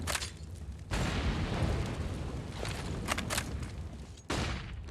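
Gunfire erupts in a competitive online shooter match, including a headshot through a wall: loud, dense bursts of rapid shots that cut off abruptly and then resume.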